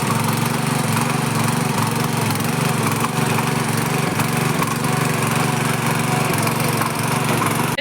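Tractor engine running steadily in a field during maize sowing, a loud, constant droning rumble close by with no break and no voices.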